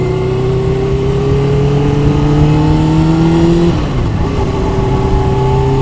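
A 1999 Suzuki GSXR 750 SRAD sport motorcycle engine revs loudly and steadily, its pitch climbing, dropping sharply near the end, then rising again as it pulls hard.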